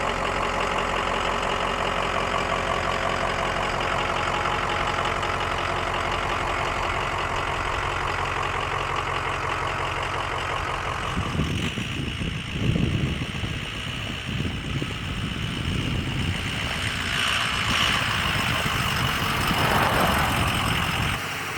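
A Ford E350 6-liter engine idles steadily with a deep, rough rumble, then revs and rattles unevenly before settling into a loud throb again.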